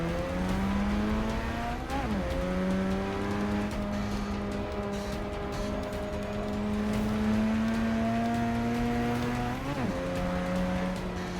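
A Mazda race car in the Forza 6 video game roars at high revs, its engine tone sliding down twice as it brakes and shifts, loud and continuous with tire noise underneath.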